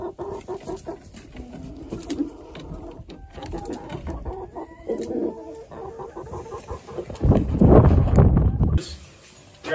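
Chickens huddled inside their coop on a snowy morning cluck and call in short irregular bursts, close by, with a louder flurry of clucking near the end.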